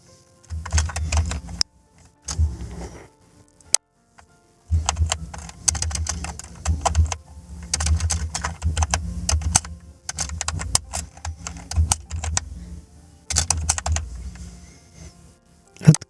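Rapid, clattering keystrokes on a computer keyboard typing into Google Translate, in several dense bursts separated by short pauses, close and fairly loud.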